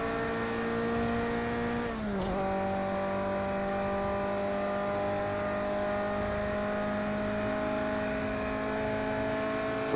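A race car engine in Project Cars drones at steady high revs, with a brief dip in pitch around two seconds before settling into a constant, loud whine.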